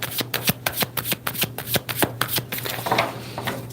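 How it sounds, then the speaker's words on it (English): Playing cards are shuffled in quick, crisp riffling bursts, close up and fairly loud, with no talking. "I'm going to shuffle these cards for you, Montaigne."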